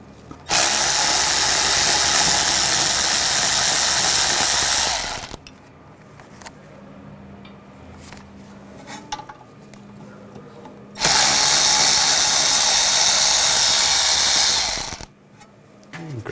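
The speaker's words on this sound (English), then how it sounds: "I'm going to take these two bolts out. Use a 13mm socket." A power tool with a 13mm socket removes the rear brake caliper bolts on a 2009-2017 Volkswagen Tiguan, running in two loud, sustained close bursts of about five and four seconds with quiet gaps between them.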